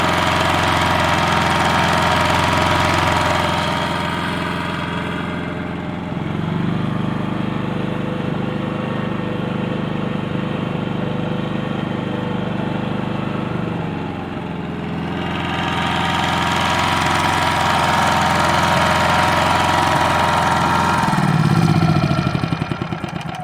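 A Westinghouse iGen4500DF inverter generator engine runs steadily up close, dropping to a quieter, lower idle midway before speeding back up to a louder drone.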